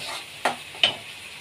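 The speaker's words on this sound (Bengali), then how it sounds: "এটা যেহেতু রসুন আছে একটুখানি ভাজা হবে" Onion, ginger and garlic masala frying in a pan on the stove: a faint, steady low sizzle with two short scraping stirs, one after the other, close by.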